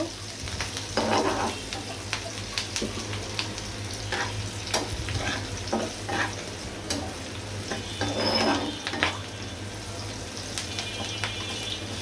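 Onions and green chillies frying in a pan until lightly browned, a steady moderate sizzle with a spatula stirring and scraping at intervals, close by, with faint background noise.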